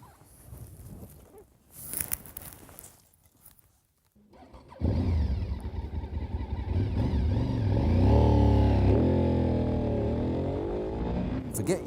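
A Honda RC51 (VTR SP1) V-twin engine starts up after some quiet handling noises, then revs loud and close with rising and falling throttle blips.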